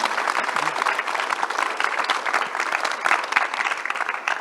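A crowd at an Apollo 11 Mission Control panel at Space Center Houston applauds the panelists, dense and sustained clapping from many hands that holds steady throughout without any speech.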